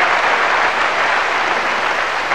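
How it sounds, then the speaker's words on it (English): A tennis crowd at the 1992 Men's European Open applauds its hero, a dense and steady wash of clapping that holds at an even level throughout, with no voices standing out. "they clap their hero"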